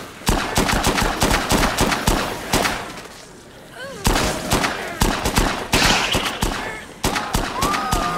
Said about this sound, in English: God damn it, you shot me.